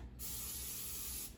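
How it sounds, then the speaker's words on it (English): A single steady hiss of aerosol olive oil cooking spray onto a pie plate, lasting just over a second, close and clear. "you're going to want to lightly spray this"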